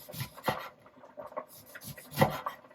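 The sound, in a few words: knife slicing lemon into thin rounds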